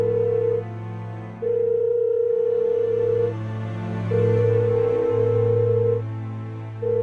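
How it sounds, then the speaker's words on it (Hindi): An outgoing mobile phone call rings with no answer: a loud, steady ringback tone repeats in long bursts separated by short pauses. "कॉल बार बार जाती है, पर कोई जवाब नहीं"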